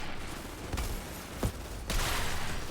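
Gunfire against shotgun-wielding Breacher enemies in the shooter game Outriders comes as a few sharp, loud shots and bursts at close range over a background hum of game noise.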